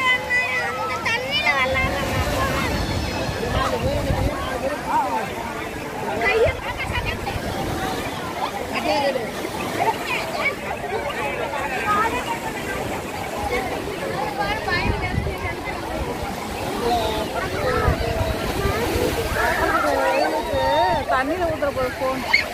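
Boat ride on the sea, with wind buffeting the microphone and waves and engine rumble running throughout, under constant chatter and babble from passengers.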